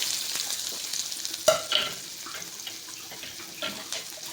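Chopped onions hitting hot oil for Uttar Karnataka chutney give a sudden sizzle burst, then a soft continuous frying hiss with a few light stirring clicks.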